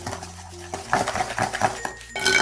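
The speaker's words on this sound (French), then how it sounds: "on mélange bien jusqu'à ce que l'œuf disparaisse" A utensil clinks and scrapes against a bowl while egg is stirred into cake batter for a birthday cake, producing several close, irregular metallic taps and scrapes that grow busier toward the end.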